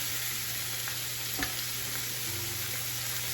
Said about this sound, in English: I don't even know if you can hear me with this sizzling